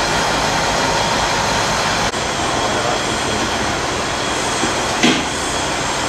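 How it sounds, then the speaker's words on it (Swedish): Steady broadband rumble of a train rolling along rails in Italy, continuous and fairly loud, with a couple of brief clanks from the cars. "Det där tåget går ner till stan igen."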